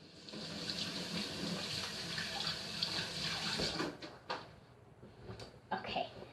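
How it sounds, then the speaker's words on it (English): Kitchen tap running water over hands being washed, a steady hiss that breaks into splashes and small clatters toward the end, with faint speech in the background. "gonna wash my hands"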